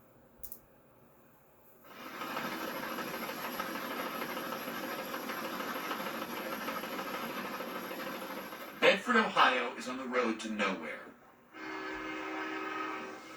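A freight train rolls through the small town of Bedford, Ohio, with a long steady rumble and then a cluster of loud horn blasts, followed by more rolling noise. A voice speaks briefly at the start.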